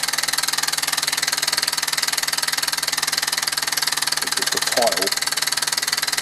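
A rebuilt 1949 Mamod SE2 model steam engine runs with a rapid, even mechanical beat that holds steady throughout, and a person speaks briefly over it.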